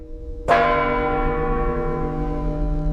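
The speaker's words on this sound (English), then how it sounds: "The echo of a forgotten chime, a call to awakening." A single church bell is struck once, the loud clanging strike ringing out into a long, rich, slowly fading hum of overtones that lingers alone for several seconds.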